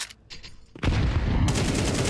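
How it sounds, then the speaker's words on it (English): Desert Eagle pistol fire in a Counter-Strike 2 esports playoff match, starting after a quiet moment as a sudden loud burst of rapid gunshots that continues densely to the end. "Magix has a Deagle bullet sent his way."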